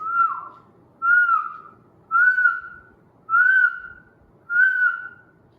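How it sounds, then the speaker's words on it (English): A person whistles five short, evenly spaced notes, each a bright sliding tone separated by brief pauses, close and clear with no talking. "You try to whistle. You whistle in, you whistle out."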